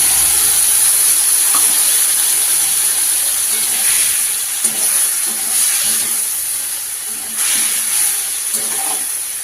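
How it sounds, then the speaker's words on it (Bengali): Spice paste of ginger, onion, garlic, cumin, coriander, turmeric and chilli powders sizzles and hisses steadily in a pan, a continuous frying noise with soft scraping bursts throughout. "মশলাটা কষানো হয়ে যাক।"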